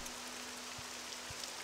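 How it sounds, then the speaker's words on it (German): Rain in the video game Morrowind falls as a soft, even hiss of drops, faint and steady over a low hum, with no talk. "Oh, es regnet."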